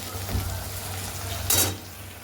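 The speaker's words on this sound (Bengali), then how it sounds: "এবার এই মশলাটাকে একটু ভালো করে কষিয়ে নেব।" A spice masala with cumin fries in a wok over a gas flame, a close sizzle and crackle with a soft scrape near the start and a sharp hissing burst midway.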